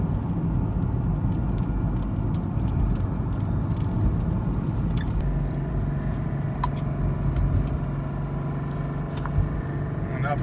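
A 1987 Mercedes 300TD wagon with an OM603 diesel and a Holset HX32 turbo drives steadily in third gear at about 2000 RPM, a constant engine drone and road noise heard from inside the car with faint clicks.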